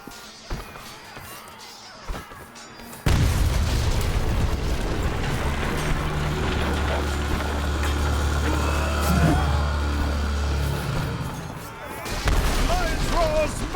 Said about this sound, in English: Masons, detonate those powder kegs.